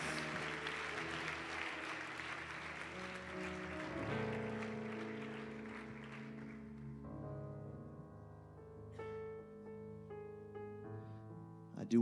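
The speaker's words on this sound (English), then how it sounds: "Go ahead and clap your hands to the Lord as you make your way back to your seats today." A church congregation claps throughout, dense at first and then thinning out, while sustained organ or keyboard chords play underneath and continue alone at the end.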